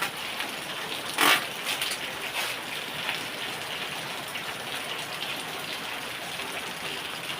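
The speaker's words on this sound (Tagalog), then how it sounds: "Ang lakas talaga ng ulan." Heavy rain pours steadily in a continuous broadband hiss, with a brief louder splash early on and constant drumming on surfaces.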